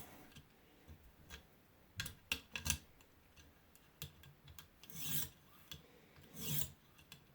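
A knife being sharpened on a ViperSharp sharpener to clean up a small divot in the edge: faint, irregular rasping strokes of steel on abrasive, some short and ticking, a few longer and louder.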